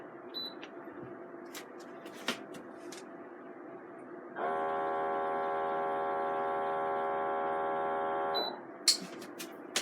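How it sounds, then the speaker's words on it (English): A PENDOO vacuum sealer runs its seal-only cycle on a bag, a steady buzzing electrical hum lasting about four seconds between quieter handling clicks and taps. "Okay, now I'm just going to seal it only."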